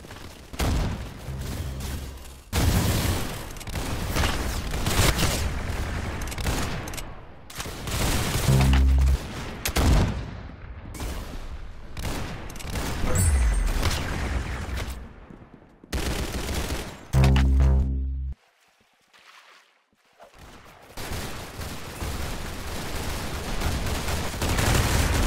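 Gunfire in the Roblox game Arsenal, dense rapid volleys of shots and booms that run almost continuously, broken by a few brief quiet gaps, loud and close, with no voices.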